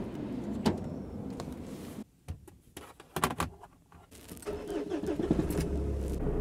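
A truck's engine cranks and catches after a door thunk and some brief handling clatter, then settles into a low, steady idle close by.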